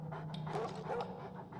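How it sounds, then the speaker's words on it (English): A dog in Oblivion Remaster pants in quick, soft breaths inside a cave, close and fairly quiet over a low steady hum. "There's a dog."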